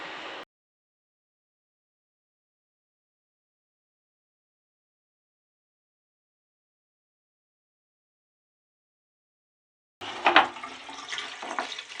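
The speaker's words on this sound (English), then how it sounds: "let's bring this inside and dump the water." Long silence, then a sudden splashing rush of water dumped from a bucket near the end, loud and sloshing for a couple of seconds.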